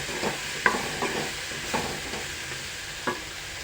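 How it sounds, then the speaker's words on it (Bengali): Vegetables being stirred and fried in a spice masala, giving a soft sizzle under light, irregular scraping and stirring taps, close and fairly quiet, with no one talking. "সবজিটা আমার কষানো কমপ্লিট হয়ে গেছে।"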